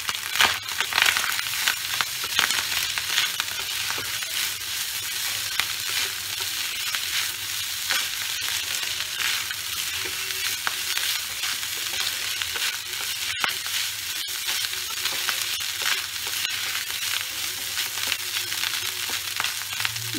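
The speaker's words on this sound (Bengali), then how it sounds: "ভাতটা ভাজা হবে" Leftover rice fries in a pan for bhat bhaja, producing a steady close sizzle with scraping stirs and occasional crisp clicks running for a long stretch, without any voice.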